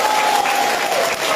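A crowd at a political rally in Kota Marudu breaks into loud, sustained applause, a dense wash of clapping with no break.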